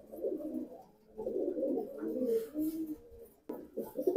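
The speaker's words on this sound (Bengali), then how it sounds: "এটা হলো ওই নর কবুতরটা" A large male patti pigeon coos close by in a few low, throaty bursts separated by short pauses, with no voices.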